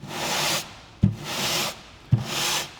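Three rhythmic strokes of hand sanding over a drywall patch's joint compound, each a loud close scraping rub separated by short pauses and a light tap as the sander resets.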